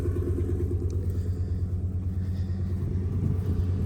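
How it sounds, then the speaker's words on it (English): An old pickup truck's engine idles through a modified, non-stock exhaust, giving a steady, deep rumble that stays close and constant throughout. "Let's get you a sound of the exhaust here."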